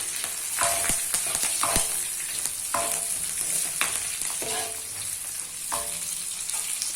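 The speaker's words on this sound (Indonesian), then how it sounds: "Dan kita mau tumis-tumis sebentar." Goat curry aromatics for an Aceh-style dish sautéed in a pan, a steady loud sizzle with repeated scraping stirs of the spatula every second or so, no talking.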